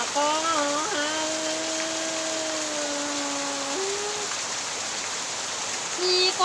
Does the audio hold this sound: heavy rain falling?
yes